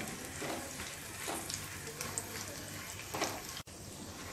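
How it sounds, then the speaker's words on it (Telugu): Dried red chillies, chana dal, urad dal, mustard seeds and cumin frying in hot oil for a tempering for coriander tomato chutney, giving a steady close sizzle with faint crackles throughout. "ఎండుమిరపకాయలు, శనగపప్పు, మినప్పప్పు, ఆవాలు, జీలకర్ర వేసి వేయించుకుందాం."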